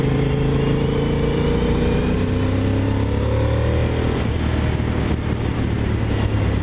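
Honda VTR1000 SP1 V-twin motorcycle engine under way on the road, loud and close, droning steadily with a shift in pitch partway through as the revs change, alongside wind rush.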